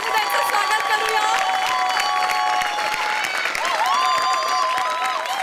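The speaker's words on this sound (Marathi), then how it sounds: "जोरदार टाळी त्यांचं स्वागत करूया" A studio audience at a Marathi comedy show applauds and cheers in a steady, dense wash of clapping as a film team is welcomed, with music playing over it.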